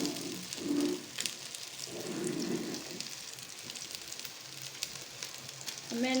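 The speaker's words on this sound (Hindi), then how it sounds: "इस तरह से इनके इर्द गिर्द घी डालते जाएंगे हम" Shami kababs of chicken and chana dal sizzle and fry in ghee in a pan, a steady crackling hiss with brief louder bursts of spattering, close and continuous with no talking.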